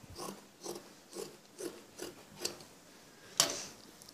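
Scissors snip through extra blouse fabric in a steady series of about six soft, close cuts, then one sharper, louder clip near the end, with no talk.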